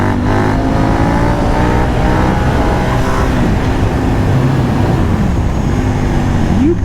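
KTM 890 Duke R motorcycle engine revving while riding, loud and steady with rising and falling pitch sweeps, close and continuous over wind rush, without speech.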